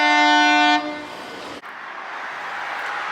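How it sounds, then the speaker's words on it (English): A boat's horn gives a loud, steady blast with strong harmonic tones for under a second, then cuts off, leaving a broad background rush and a brief click. "there's a boat there honking its horn"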